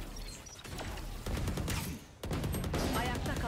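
Automatic weapon spray in Valorant crackles in several rapid bursts, broken by a short pause, with game effects and a faint commentator voice underneath.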